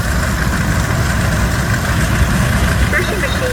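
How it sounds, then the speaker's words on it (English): A steam engine powers a Bell City threshing machine at a threshermen's show, a steady, loud rumble with a low, even mechanical drone and no distinct beats, while someone narrates over it. "The threshing machine you see here today, powered by a steam engine, is a Bell City New Heart model."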